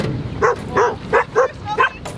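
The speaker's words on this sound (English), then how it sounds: "can you get that dog to sign a waiver?" A dog barks and yips repeatedly outdoors near ponds, a quick run of six short, fairly loud woofs close by over a low rumbling background.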